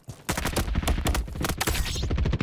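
Rapid bursts of gunfire from the Roblox game Frontlines, dense overlapping shots and fusillades rattling loud and close for most of the stretch after a brief quiet start.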